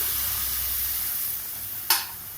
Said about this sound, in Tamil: கரைச்சி வச்ச புளி ஊற்றிக்கலாம்